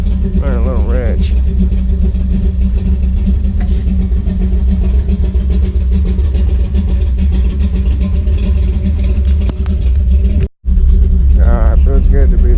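Cammed Chevrolet C10 pickup engine running rich while driving, a loud steady low rumble throughout with a brief dropout near the end and a voice talking over it at the start and close.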